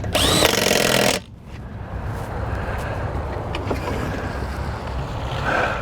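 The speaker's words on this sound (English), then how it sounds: "I'm going to swap the tires front to back now, put the good tires on the front" Pneumatic impact wrench working the wheel nuts while car tires are swapped front to back, a loud short burst at the start followed by a steady lower workshop hum.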